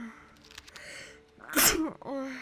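A single loud sneeze bursts out sharply, close and alone, after a short quiet lead-in.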